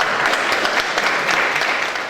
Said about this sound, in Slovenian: Zgodba za en aplavz.